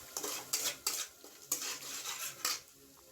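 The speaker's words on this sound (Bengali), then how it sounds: "এবার আমি আরও একটু ভালো করে মশলাটা কষিয়ে নেব" Spice paste stirred in a hot pan for a Bengali parshe fish curry, a utensil scraping and clinking against the metal in several sharp, evenly spaced strokes over a soft sizzle, close by with no voices.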